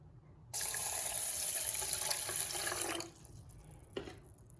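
Water pours steadily from a tap for a few seconds onto lentils to soak, a bright rushing splash that cuts off abruptly, followed by a faint drip-like trickle.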